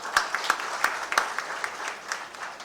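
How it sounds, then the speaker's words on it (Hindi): An audience at a national seminar applauds to welcome Bihar's deputy chief minister, with sparse individual claps standing out sharply over a softer, thinning patter from the room. "जोरदार तालियों से इनका स्वागत करें।"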